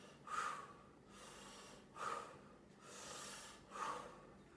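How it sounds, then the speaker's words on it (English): Three slow, deep breaths taken during a breathing exercise, each a soft, airy inhale that swells and is followed by a long exhale, close and quiet with no talking. "3 more breaths."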